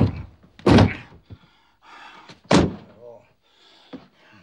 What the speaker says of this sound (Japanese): おい、またこのドア開かないぞ。